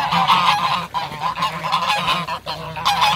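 Several geese honk loudly and continuously at close range in a farmyard, a dense overlapping chorus with brief dips, sounding as if a duck is nearby at feeding time.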